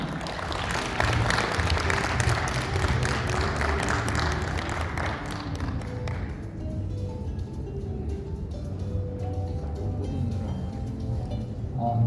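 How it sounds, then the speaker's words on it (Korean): Audience applause at a Korean startup and government-funding seminar greets a speaker coming onto the stage, a dense wash of clapping from a crowd that fades out after about six seconds, leaving quiet room tone. "여러분 박수로 맞아주시기 바랍니다"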